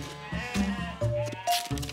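Sheep bleat repeatedly in quick succession, several wavering calls overlapping one another, close and fairly loud.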